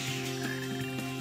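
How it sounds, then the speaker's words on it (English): Croaking of a frog in the video game Sonic Heroes, a steady repeated croak sitting alone over a looping game music background, moderately loud and close. "Detecting a frog in the vicinity."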